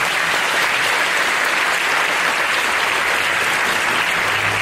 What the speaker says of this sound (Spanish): les pido un fuerte aplauso para nuestro obispo